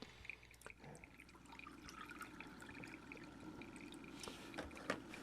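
Drinking water being poured into a glass, a soft trickling splash with faint drips against quiet room noise, low in level and fairly close.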